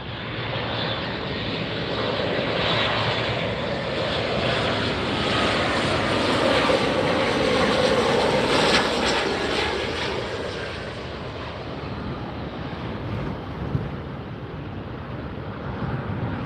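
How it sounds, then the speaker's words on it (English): An Embraer E-Jet airliner at LAX produces a loud, steady jet engine roar that swells and holds close by, with wind buffeting the microphone and no voices. "And we got an E-Jet right here."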